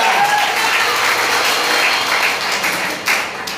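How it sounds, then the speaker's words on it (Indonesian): Loud, steady applause from a church congregation during a GBI Belawan Sunday service fills the space evenly, with a slight swell near the end. "Tepuk tangan buat Tuhan kita."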